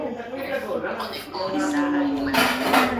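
Plates and spoons clinking together at close range, light ceramic and metal knocks under people talking.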